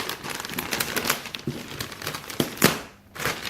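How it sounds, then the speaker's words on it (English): Wrapping paper crinkles and tears in bursts as it is ripped off a box, with sharp ripping rasps and rustling close by, pausing briefly before more crumpling. "have to excuse the noise as I rip the paper off"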